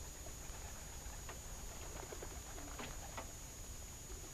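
Racing pigeons coo softly at the loft, their low murmuring calls faint and intermittent under a steady outdoor hiss.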